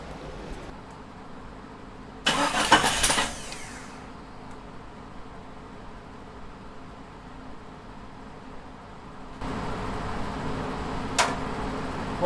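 A Jeep Cherokee XJ engine gives a harsh, loud burst of about a second and a half. After a long quieter stretch it settles into a steadier, rougher rumble, with no talking.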